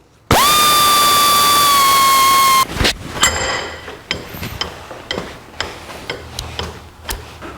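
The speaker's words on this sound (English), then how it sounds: "I'm going to use my cutoff wheel." A cutoff wheel slicing through a throttle cable during a 1949 Chevrolet install: a loud high whine for about two seconds, then the tool winds down, followed by scattered clicks and taps.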